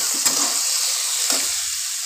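Vegetables for chow mein, with sugar added, stir-fry in a hot pan, giving a steady bright sizzle broken by two short spatula scrapes against the metal.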